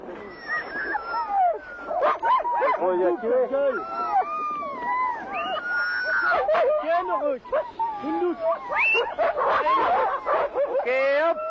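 Sled dogs in the Siberian taiga bark, yelp and whine in an excited, overlapping chorus, close and loud, with rapid repeated cries and howl-like wails piling up without pause.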